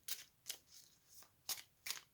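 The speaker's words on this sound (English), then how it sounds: "So we're going to give it a quick little shuffle." A deck of gypsy oracle cards being shuffled by hand, giving four or five quick crisp riffling bursts at an uneven rhythm, close and fairly quiet, with no voices.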